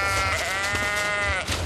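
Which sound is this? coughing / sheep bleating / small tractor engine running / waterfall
sheep bleating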